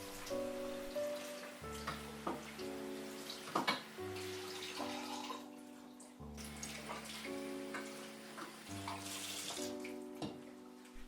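Running tap water over fresh strawberries in a kitchen sink, a steady splashing stream with bursts of dripping and shifting flow, fairly close and continuous with no talking.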